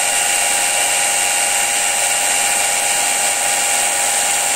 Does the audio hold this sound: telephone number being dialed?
no